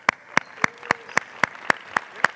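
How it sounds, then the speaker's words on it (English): Steady, rhythmic clapping at a basketball training camp: about nine sharp, evenly spaced claps in quick succession, fairly close and distinct, with no talking. "Clap it up for him."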